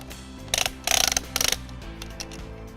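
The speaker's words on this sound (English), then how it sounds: "Simply unlatch, adjust the length, and then lock into place." Ryobi ONE+ hybrid grass trimmer with an all-metal boom being unlatched, slid to a new length and locked, giving a few close, crisp mechanical clicks and ratcheting snaps in quick bursts.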